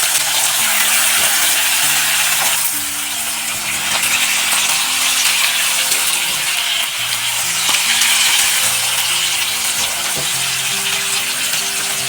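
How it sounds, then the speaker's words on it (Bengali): Chanda fish frying in hot oil in a wok produce a loud, dense, continuous sizzle and crackle that stays steady throughout, with faint tonal background music underneath and no talking. "এবারে মাছগুলোকে এক এক করে কড়াইতে ছেড়ে ভেজে নেব।"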